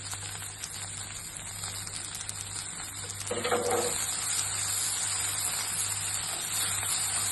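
Okra cooks in an open pan with grated fresh coconut and coriander, giving a steady crackling sizzle throughout, with a brief louder scrape of stirring midway and no voices.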